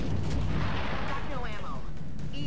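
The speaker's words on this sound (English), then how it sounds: "what was that? Firing through the wall." Gunfire crashes through a wall in the XCOM Enemy Unknown video game, a dense booming burst at the start that trails into rumbling debris and a brief whistling tone.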